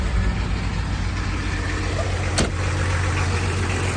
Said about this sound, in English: we're gonna start the car back up and let it run